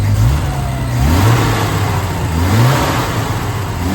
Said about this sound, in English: Let me start this car up for you.